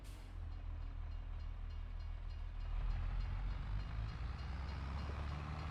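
A freight train in Farming Simulator 22 rolls past with a steady, heavy low rumble and faint hiss, swelling slightly midway, with no voices.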